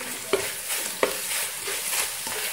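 Sugar caramelizing in a dry pan without oil, stirred with a utensil, a soft sizzling hiss broken by a few sharp scrapes and taps against the pan; no talk.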